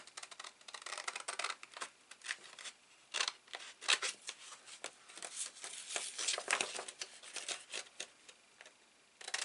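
Scissors roughly cutting greeting cards out of a paper sheet, a steady run of crisp snips and paper rustles close by, irregular in rhythm and with no talking.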